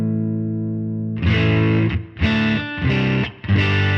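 Distorted electric guitar chords with an EQ boost adding more bass and highs ring out, a sustained note followed by three chunky strummed hits with a full, bright tone and thick low end.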